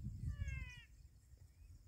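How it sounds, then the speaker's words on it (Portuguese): A frog calling in a nasal, cat-like meow, the 'sapo gato' kind, gives one drawn-out wavering cry up close, then a fainter short note follows over low rumbling background noise. "Parece o sapo gato."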